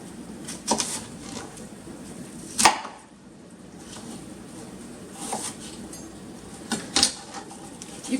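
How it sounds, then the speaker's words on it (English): A knife cuts an apple into pieces for cider vinegar, a few crisp chops and knocks against a board spaced across a quiet room. "So all I'm going to do is cut my apple into pieces."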